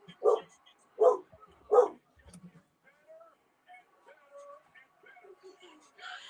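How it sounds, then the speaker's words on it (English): A dog barks three times in quick succession, loud and close, followed by quieter background chatter and faint voices from a livestream in the room. "Oh my God, this dog."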